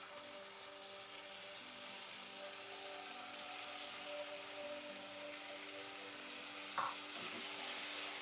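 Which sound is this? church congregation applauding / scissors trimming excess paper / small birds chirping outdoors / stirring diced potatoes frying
stirring diced potatoes frying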